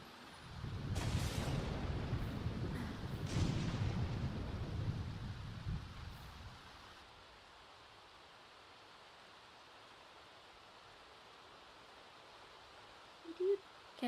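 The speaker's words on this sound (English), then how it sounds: "You got struck by lightning." Lightning strikes in the Sims video game, bringing a loud, rolling thunder rumble with rain-like hiss for several seconds before it fades to near silence, with a brief small sound at the very end.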